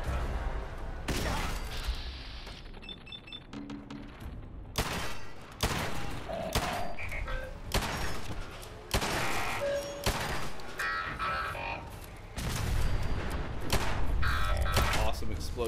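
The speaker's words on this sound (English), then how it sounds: "Awesome explosion going on behind me." Explosions and gunfire in the Wasteland Wanderer video game, a series of sharp booming blasts and bursts cutting in repeatedly among game effects, with a voice talking over parts of it.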